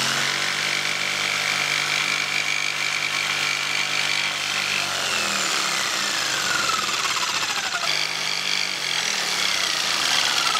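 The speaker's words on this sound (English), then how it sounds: "So I'm just gonna come back with a jigsaw and just take the corners out" A jigsaw cuts through wood in a bus conversion repair, a loud continuous buzzing rasp that runs steadily throughout with slight shifts in pitch as the blade works.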